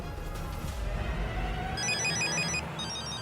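A telephone rings with a bright electronic trill in repeated short bursts, fairly near, over a low musical background bed.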